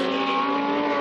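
GT2 race cars, a KTM and a Porsche 911, at speed on the Dijon circuit, a sustained high engine note holding steady over a brief moment, heard from trackside at moderate distance.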